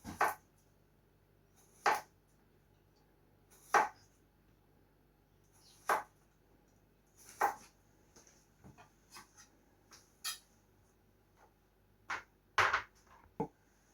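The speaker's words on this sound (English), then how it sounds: "Slice my cucumbers." Knife slicing cucumbers on a cutting board during salad topping prep, a series of sharp, close taps spaced about two seconds apart, followed by a quicker cluster of cuts near the end, with no talking.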